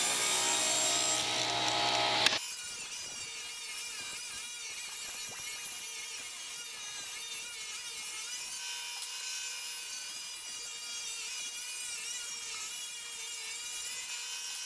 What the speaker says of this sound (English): I then went back to the table saw and cut the boards into 1 1/4 inch strips